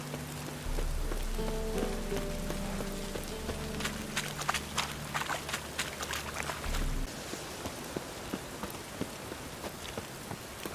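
Steady rain patters across a street scene in The Witcher 3, with scattered droplet ticks, a low rumbling drone underneath for most of the stretch before thinning out, and no voices.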